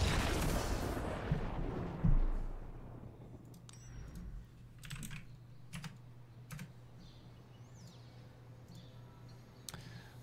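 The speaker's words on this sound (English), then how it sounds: "That's all this typing." Typing on a computer keyboard while setting up a Magic: The Gathering deck, sparse irregular clicks and key taps after a brief low thump, quiet and close with no talk.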